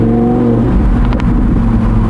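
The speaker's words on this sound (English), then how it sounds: "And in the sport mode, we also have the exhaust activated," A 2017 Audi R8 Spyder V10 with 540 hp, driven in sport mode with its exhaust valve open, gives a loud, steady naturally aspirated engine drone full of rich harmonics, with slight revving swells throughout.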